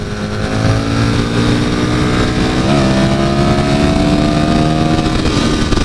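Aprilia RSV 1000 motorcycle engine running steadily while riding, a loud continuous throaty drone with harmonic tones that rise slightly in pitch midway as the bike pulls, constant and close throughout with no talk.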